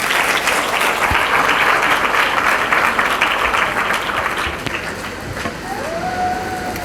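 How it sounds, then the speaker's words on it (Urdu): A church congregation applauds loudly for the Lord, a dense roar of clapping that stays strong before easing slightly near the end, with a faint whistling tone rising at the close. "آئیے ایک دفعہ پھر ہم اپنے خداوند کے لیے زوردار تالیاں بجائیں گے۔"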